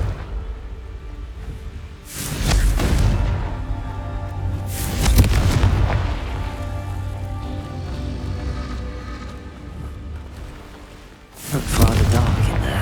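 Confringo fire spell explosions in the Hogwarts Legacy video game, three deep booming blasts spaced several seconds apart, each swelling loudly then rumbling off into a low background.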